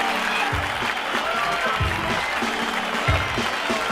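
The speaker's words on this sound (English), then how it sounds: "And give him a big round of applause." Sustained audience applause at a live home-streamed show fills the clip, dense and steady clapping with some crowd noise and low thumps of music beneath.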